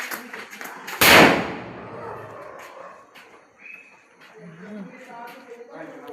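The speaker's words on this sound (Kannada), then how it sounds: "ದೊಡ್ಡ ಪಟಾಕಿ ಎಲ್ಲ ಮುಗಿತಾ ಮಗ ಇಲ್ಲುಂಟು ಸಣ್ಣ ಸಣ್ಣದುಂಟು" A single firecracker bursts with a loud, sharp bang at a Tulasi puja celebration, followed by a fading echo while people talk quietly nearby.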